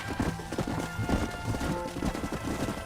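Steady clip-clop of horse hooves trotting at a quick, even rhythm in the video game Red Dead Redemption, close and continuous, with a faint whinny mixed in.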